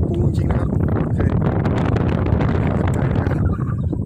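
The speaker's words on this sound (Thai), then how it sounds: "โอ้ลมแรงครับพี่น้องครับ อาจจะได้ยินเสียงอู้นิดนึงนะครับ" Strong wind roars over an open green rice paddy and buffets the microphone, a loud, continuous low rumble with gusty swells throughout, easing slightly at the end.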